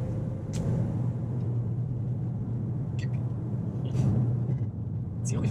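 A learner driver floors a car at full throttle during a driving lesson. A steady engine roar and road rumble hold throughout, with a few faint, brief clicks and noises over the drone.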